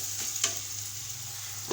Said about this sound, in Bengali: এবার এখানে দিয়ে দিব হলুদ, নাড়িয়ে চাড়িয়ে নিই।